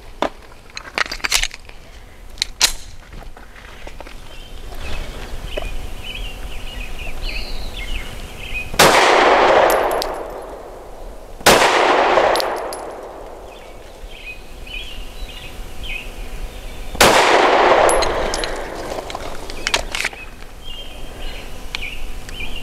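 Arex Delta M Gen 2 pistol firing Norma Hexagon 124 grain match-grade rounds, three loud, sharp shots spaced a few seconds apart, each with a ringing outdoor decay, over quiet background ambience.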